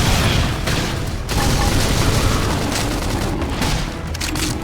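Grenade blast in Xenoblade Chronicles X during a battle, giving a dense, loud wall of explosive roar and crackling debris that barely lets up, with bursts of combat noise layered over it.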